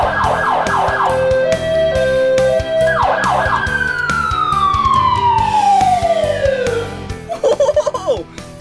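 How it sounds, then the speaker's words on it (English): An ambulance siren wails, sweeping up and down at an outdoor play park, then a long descending tone winds down, followed by a few short chirps; close and loud. "The siren. Listen."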